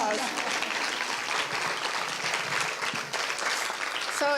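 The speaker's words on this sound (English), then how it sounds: "You guys can give that an applause." An audience claps in a dense, continuous round of applause at a press conference, steady and moderately loud for the full few seconds.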